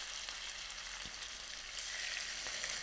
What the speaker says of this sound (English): You can hear it sizzling up.